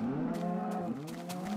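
A cow in the video game Minecraft gives a drawn-out, wavering moo, loud and close, filling the whole moment with no talking over it.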